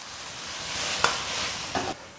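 Blanched mushroom cakes frying with spices in oil in a wok as cooking wine is added, a constant sizzle with two sharp bursts of hiss, close and alone.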